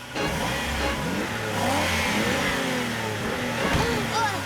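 A Tobot robot car's engine starts and revs, a mid-pitched motor rising and falling steadily throughout, fairly loud and close, with cartoon music and effects layered around it.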